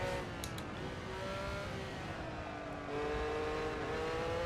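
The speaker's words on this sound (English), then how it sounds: "the tyres squealing as I try and get the car to turn through there" Continuous engine roar with thin, high squealing tones wavering above it, as a Ferrari 312T's tyres screech straining through a banked turn at the Nürburgring Nordschleife in a VR racing game.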